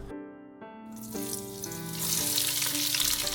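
Onions hiss in an oiled pan for a minestrone, a broad sizzle swelling in over the last second and a half behind steady melodic music.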